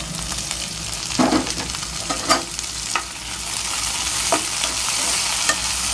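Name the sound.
onion and capsicum frying in a pan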